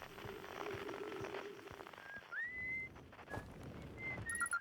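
A character in the Outer Wilds video game whistles a few thin, sliding notes, moderately clear over a soft ambient game background with scattered soft taps and a faint chime near the end.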